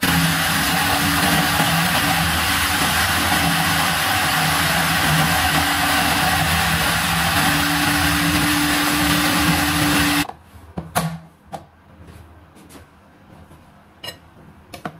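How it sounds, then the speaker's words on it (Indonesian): A loud, steady motorized grinding whir from a food processor grinding dory fish runs for about ten seconds, then cuts off, leaving quiet clicks and light handling noises. "Lalu giling ikan dorinya hingga halus"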